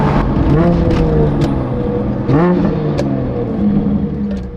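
A BMW M4 engine revs hard and close, pitch sweeping up in quick bursts between gear changes, loud and throaty over a constant road rumble.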